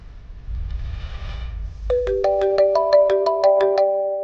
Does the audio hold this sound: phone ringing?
yes